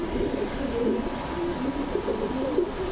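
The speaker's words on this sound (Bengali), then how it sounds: "খুবই পুরান জাতের কবুতর, বড় চিলা" Pigeons of the old Chila breed coo in soft, repeated throaty rolls, close and steady over a low background hum.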